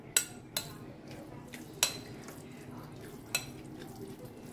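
A spoon stirs chopped onion and coriander into a dish in a metal pot, giving four sharp, isolated clinks against the pan over a faint, low background of soft stirring.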